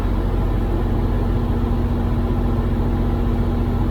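A 1988 Toyota 4Runner SR5 V6 idles steadily at warm idle, a low continuous engine hum with a faint rhythmic pulse, close by and alone with no talk.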